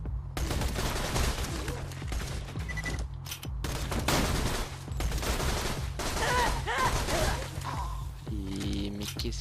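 Loud, dense gunfire from the video game Borderlands 2, with overlapping bursts of shots and impacts filling nearly the whole stretch, then a brief tonal game effect near the end.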